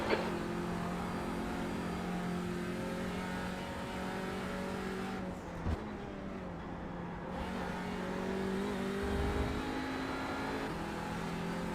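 A TCR touring car engine drones steadily in a racing sim at Road Atlanta, revving and shifting through gears with a brief dip, loud and continuous with no talk.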